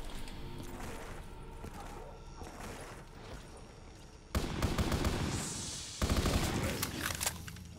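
A BAR rifle fires in a zombies shooter game, with sustained rattling gunfire and two sudden louder bursts of rapid shots near the end, heavy and close over a busy game background.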